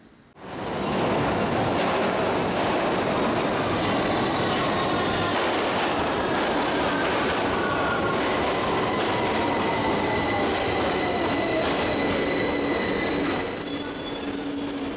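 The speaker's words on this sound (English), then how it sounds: "Today, we have lots and lots of trains." Trains roll past on rails with loud, sustained wheel squeal and a continuous rumble, staying near and steady throughout.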